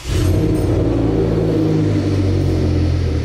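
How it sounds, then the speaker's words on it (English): An Audi RS6 with a V10 engine starts and settles into a deep, loud, steady rumbling idle close by, its low throb continuous after a brief initial surge. "V10 RS6 starting up in the background."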